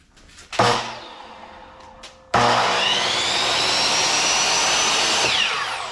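A miter saw powers up, its blade spinning up to a loud, steady whine that holds for several seconds after a brief earlier burst, with no talking.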